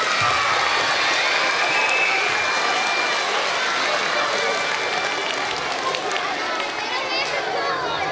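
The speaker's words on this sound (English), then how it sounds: "round of applause for a volunteer." A rally crowd gives a steady round of applause, dense clapping mixed with cheering and chatter, loud and sustained throughout.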